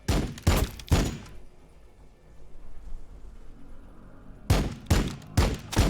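Gunfire from a Warhammer 40000 Battlesector multiplayer battle, Adepta Sororitas against Space Marines: loud clustered bursts of shots at the start, a quieter lull, then several more sharp reports close together near the end.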